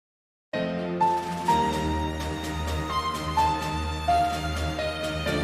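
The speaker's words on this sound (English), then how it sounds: "so I bring back a bunch of instruments and put the lead on solo violin too." An orchestral video game soundtrack starts abruptly after a brief silence, with a sustained solo violin lead carrying the melody over a full, dense backing of returning instruments and a steady low bass, loud and continuous.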